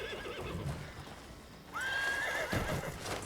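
A horse in the video game Crimson Desert delivers a kick amid hoof clatter, then lets out a clear rising whinny midway, followed by more thuds and scuffles over a faint background.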